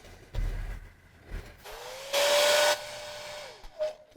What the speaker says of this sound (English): I like using a hairdryer to speed things up.